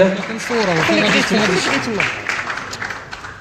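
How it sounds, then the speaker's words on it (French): An audience applauds an African taekwondo champion at a public event. Someone talks over the clapping at first, and the applause carries on alone and gradually thins. "صفقاتكم vos applaudissements aussi pour Ilham Bourgad."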